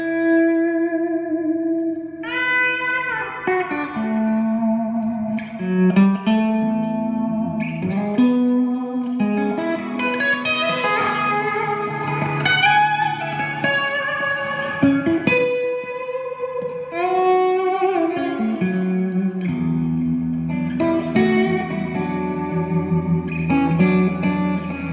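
An electric guitar plays a slow melodic line through chorus and a long, low-level reverb, notes ringing and blending in a continuous wash with no talking.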